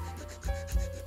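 Coarse 120-grit sandpaper rubs over an epoxy surfboard around a ding, giving a soft, quiet scratchy friction with two slightly stronger strokes close by.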